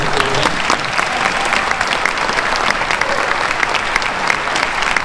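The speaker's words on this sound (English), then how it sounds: "Yeah, you can clap for them." An elementary school audience claps loudly for children's circus skills performers, a thick, continuous applause with sharp individual claps standing out, a few voices mixed in.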